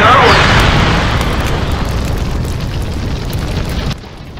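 A cartoonish spirit bomb explosion in a comedy skit erupts as one loud, sustained roaring boom, a dense rumbling blast that fills the clip for about four seconds before cutting off abruptly into a quieter tail.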